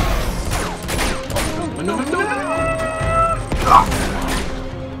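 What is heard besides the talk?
gunfire in the video game Uncharted 2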